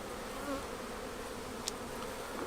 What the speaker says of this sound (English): A little bit of smoke to encourage the bees away.